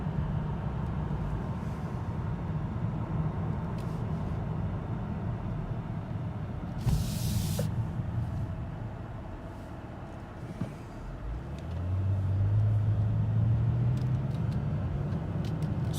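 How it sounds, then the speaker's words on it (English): A 2017 Chevrolet Impala's drivetrain hums steadily, dips as the torque converter lets go, then swells back with a rising whine and louder drone, heard from inside the car. "Yep, the torque converter lets go."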